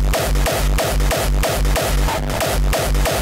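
Hardcore kick drum samples from a sample kit play in a steady, loud, distorted rhythm, roughly four punchy hits per second with heavy low-end booms and no voices.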